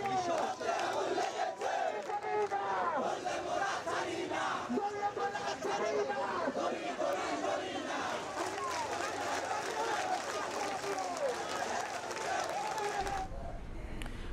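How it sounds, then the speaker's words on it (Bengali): Students at a Dhaka rally calling for a ban on the Awami League chant slogans as a large crowd. Their massed voices rise and fall steadily throughout, loud and continuous, until they cut off abruptly just before the end. "আওয়ামী লীগকে নিষিদ্ধের বিভিন্ন স্লোগান দেন তারা"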